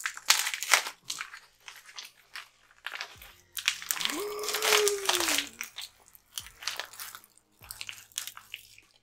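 Plastic wrap being torn off a Blu-ray case, close crinkling and crunching in bursts with a short squeak of stretched plastic midway, no speech.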